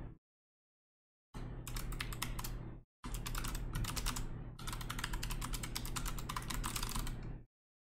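Someone types a note on a computer keyboard in quick, steady bursts of close, crisp key clicks, broken by short pauses and heard alone.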